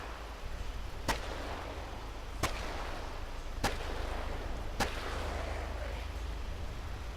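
Four evenly spaced sharp gunshots from a Smith & Wesson in the game Cataclysm DDA, each a crisp crack over a steady low background hum, with no speech.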